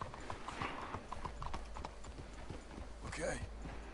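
Horses' hooves clatter in a brisk, repeated trotting rhythm in Red Dead Redemption 2, close and fairly steady, with a brief whinny-like burst near the end and voices talking over them.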